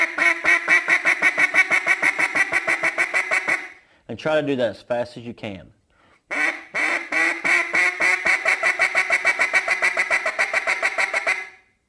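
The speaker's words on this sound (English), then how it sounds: "as you speed those quacks up, you're shortening them up" Rapid, shortening quacks blown on a duck call, in dense bursts on either side of a brief stretch of speech, loud and close.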